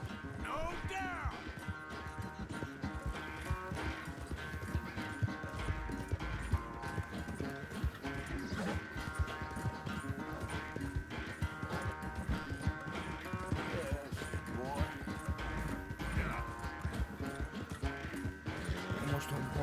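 Horse hooves gallop in a video game, a fast, steady clip-clop heard under ongoing talk, game music and other sound effects.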